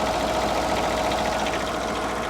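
A Kohler KDW diesel engine idles steadily and loudly up close, a continuous even drone with a rapid mechanical knocking texture and no pauses or talk.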